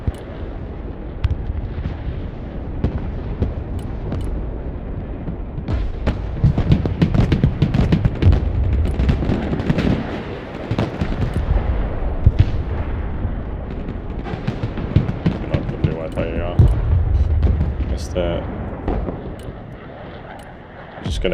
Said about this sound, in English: Bombing run, please.